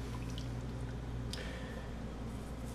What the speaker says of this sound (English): We've got the barbecue sauce that is coming to a boil right now